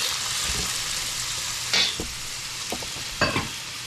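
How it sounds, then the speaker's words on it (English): Mixed vegetables, beans and carrots hit a hot pan for chow mein, giving a continuous close frying hiss punctuated by a few sharp utensil clanks and scrapes. "And the mixed veggies, beans and carrots and stuff like that. Throw that in there."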